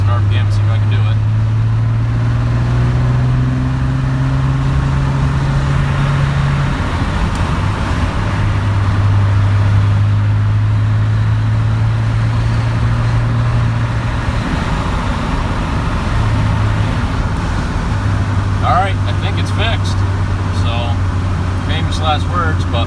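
A Cummins diesel truck engine with a fault that keeps it from revving over 2000 rpm, droning loudly while driving, its pitch climbing in steady sustained steps with road and cabin noise around it.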